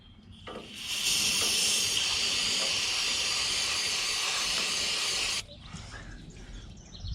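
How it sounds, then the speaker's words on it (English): An aerosol can of starter fluid or carb cleaner sprays into the engine of a John Deere A tractor in one steady, close hiss lasting about four seconds, followed by quieter rustling. "I kind of want to spray some starter fluid or something up in there, or a carb cleaner, and just clean it out good"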